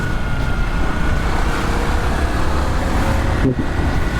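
A long queue of cars waits for fuel in Balikpapan, producing a loud, steady hum of idling engines and road noise close by, with no voices.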